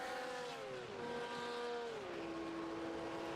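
Sim race cars lapping Road America in a racing game, engine tones sliding down as they shift and fade, a steady moderately faint drone of several cars with no talk.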